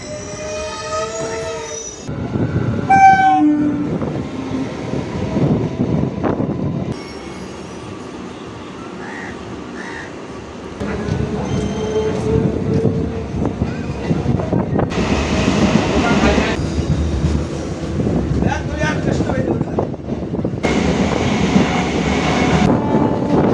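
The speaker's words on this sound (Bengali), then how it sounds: "ট্রেন নম্বর 31585 রানাঘাট টু কৃষ্ণনগর সিটি লোকালে উঠে পড়েছি" Local train No. 31585 from Ranaghat to Krishnanagar City rolls along with steady wheel rumble and rattling carriages, sharp squeals from the wheels, and a horn sounding early on, heard from inside the coach.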